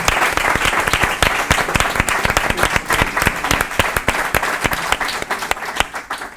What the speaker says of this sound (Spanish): Un aplauso enorme.